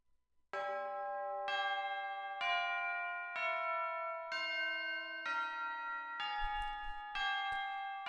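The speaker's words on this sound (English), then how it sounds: "the tubular bell normally just plays a note at the beginning of the phrase" Tubular bell notes ring out in a song, struck in a steady sequence of about eight resonant, sustained tones with rich overtones, each new strike following roughly once per second, with low accompaniment joining near the end.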